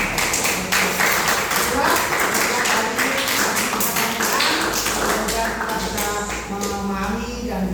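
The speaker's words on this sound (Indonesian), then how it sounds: "Tepuk tangan kita semua." Pupils in an Indonesian civics (PKN) class clap their hands in a steady rhythmic pattern, the sharp claps running throughout alongside voices and singing-like tones.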